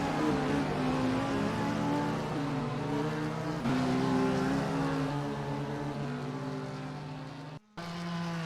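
GT3 and DPi race cars in a multiclass sim racing series, engines droning loud and steady at high revs with a gear-shift pitch drop partway, alone without voices.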